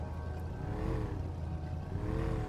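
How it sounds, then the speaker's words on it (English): A boat engine idles and runs steadily in the video game Scum, a low continuous motor drone with faint watery wash, close and alone without talk. "if you just press a W, it will start the engine near here, like this"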